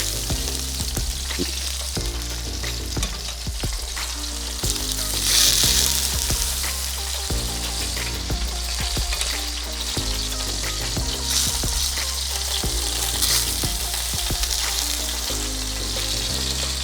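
Continuous loud sizzling of pork belly frying in hot oil, with steady crackle and scattered pops throughout; the skin is failing to blister.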